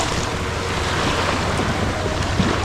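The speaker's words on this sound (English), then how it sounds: "Oh, we got some waves here." Ocean waves surge and wash in a continuous broadband roar, mixed with heavy wind buffeting on the microphone, loud and close from out on the water near a surfboard.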